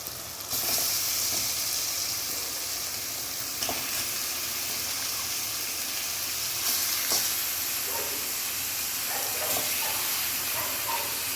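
Chicken pieces sautéing in a hot pan with softened tomatoes for spicy pepper chicken, a steady loud sizzle and hiss with occasional stirring scrapes, close up and without talk.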